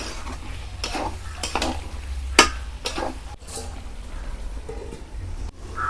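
Chicken sautéing with spice paste, garlic and charred chilli in a village-style pan, a steady sizzle broken by scraping stirs and a few sharp metal clinks and knocks against the pan; no talking.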